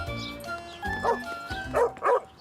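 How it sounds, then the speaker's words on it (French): A dog barking in the French-dubbed Caillou cartoon, a string of loud, close, angry barks and yips in uneven bursts, heard on their own. "Caillou avait peur. Le chien avait l'air d'être en colère."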